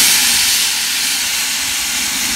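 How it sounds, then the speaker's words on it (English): Loud, continuous steam hiss vents from the Royal Scotsman steam train, a steady broadband roar close by that holds for the whole stretch with no talk over it. "Whoa! That's a lot of steam, isn't it?"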